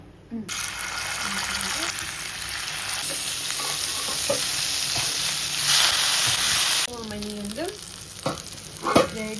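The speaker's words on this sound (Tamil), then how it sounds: "சிக்கன் பொரிக்கிறதுக்காக" Loud, steady sizzling of chicken frying in hot oil, with occasional clinks and scraping of a utensil near the end.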